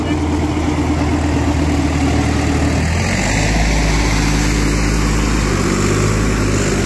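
A 48-horsepower tractor engine runs loudly and continuously nearby with an 8-foot rotavator, its low throbbing drone deepening partway through.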